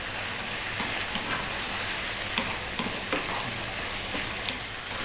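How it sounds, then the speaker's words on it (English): Tomatoes cook down in a pan for a vegan mushroom potato curry, giving a steady close sizzle and crackle with a few faint soft stirring clicks and no talking. "Really want to cook these tomatoes down. Again, stir every now and then."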